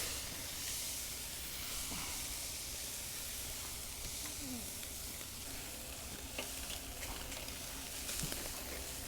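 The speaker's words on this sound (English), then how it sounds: "Hear that sizzle?" Smoked queso appetizer sizzling on a hot grill, a steady hiss and crackle with occasional pops, close by and continuous, no one speaking.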